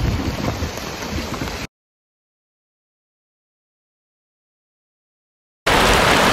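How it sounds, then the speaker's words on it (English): Steady outdoor rain hisses during a backcountry elk shed hunting trip, broken by a few seconds of total silence before the dense downpour resumes, close and fairly loud. "It's raining now, so you guys are going to have to wait"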